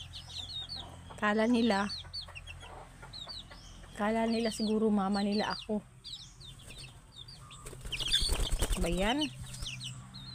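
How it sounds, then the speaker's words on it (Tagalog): Pet chickens cluck in loud close bursts, with a flurry of wing flapping near the end, while someone talks between the calls. "Ito yung mga alaga nating mga manok day."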